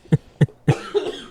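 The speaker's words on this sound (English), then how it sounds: "I can't stop coughing." Three sharp, close coughs in quick succession, followed by a rougher hacking tail, from a podcast host who cannot stop coughing.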